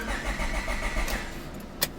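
A 2005 Honda Civic with a misfire problem cranks and starts, a steady mid-pitched engine churn carrying on throughout, ending in a brief sharp click near the end.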